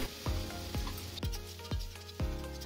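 Ground spices (turmeric, Kashmiri red chilli, cumin powder, coriander powder and chicken masala) sizzle in a pan, close and steady, punctuated by about five regular scraping knocks of a spoon stirring.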